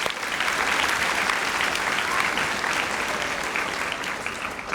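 A crowd at a school graduation ceremony applauds an award recipient, broad continuous clapping filling the hall at an even level from start to finish.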